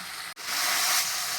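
Spices and green chilies stirred in a hot pan, giving a steady close sizzle and hiss after a brief pause, with no voices.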